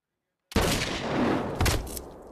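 A rifle with a reduced powder charge is fired in a ballistics test, a sharp loud report that breaks the silence and rings on, followed by a second sharp impact a second later.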